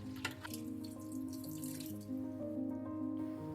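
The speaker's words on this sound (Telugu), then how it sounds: "పప్పునైతే తీసుకొని క్లీన్గా వాష్ చేసిన 2 times" Running tap water splashes steadily into a sink as moong dal is rinsed, with a continuous close trickle and faint dripping and clinking throughout and no speech.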